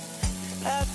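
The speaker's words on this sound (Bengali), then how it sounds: "এবার একটু নাড়াচাড়া করে নিলাম, 5 মিনিটের মতন নাড়াচাড়া করে নিলাম" Cashews and raisins fry in a pan and are stirred, a brief soft sizzle broken by two quick scraping strokes, close and clear, with no talking.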